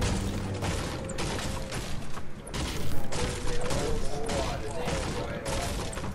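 Gunfire in the video game Fortnite: a dense, continuous clatter of shots and mechanical clicks at moderate loudness, rather busy and slightly distant in character.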